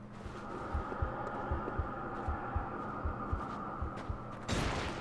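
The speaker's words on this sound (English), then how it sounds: "What the hell is that sound? Like heart beating." In the video game Bloodborne, a steady low heartbeat thumps, roughly one beat per half second, under a constant droning hum, ending with a sudden burst of noise.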